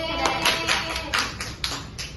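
A small class of biology students claps in a classroom, a handful of sharp, fairly regular hand claps about every half second, close and distinct over a light room hiss.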